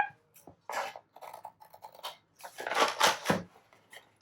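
Scissors snip through a strip of brown paper in a few uneven bursts of cutting, close and moderately loud, with short quiet gaps between the snips.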